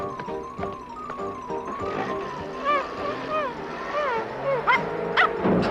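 A cartoon dog from a Garfield episode, dubbed in Quebec French, yips and whimpers in short bursts beneath music and character voices.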